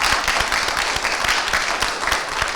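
A crowd at a children's Christmas spelling competition claps loudly and continuously for the young contestants, a thick, even wash of applause close by with no pauses.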